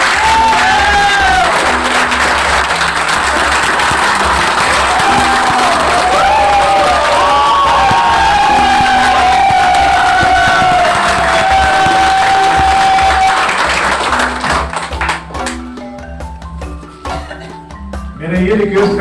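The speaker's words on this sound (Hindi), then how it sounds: "एक बार आज का मैनेजमेंट के लिए और एक बार पारस जी के लिए जबरदस्त क्लैपिंग हुई" A large audience at an MLM business seminar in Ranchi breaks into loud, sustained applause with cheering and shouts, filling the hall for many seconds before thinning out toward the end, with musical tones underneath.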